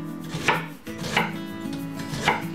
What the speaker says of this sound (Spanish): Sigo con la cebolla, que la partiremos en trocitos pequeños